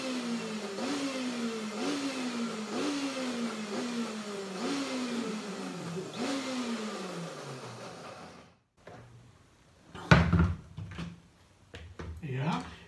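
Cilantro and cashew pesto in a food processor, pulsed in a quick run of about a dozen short motor bursts that each whine up and fall away, followed by brief talk and a few clunks near the end.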